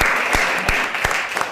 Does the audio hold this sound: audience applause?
yes